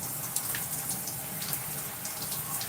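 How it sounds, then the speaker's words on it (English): Steady running water pours from a tap while conditioner is rinsed out of damp hair, a constant hissing stream heard close up with no voices. "I am rinsing out the conditioner"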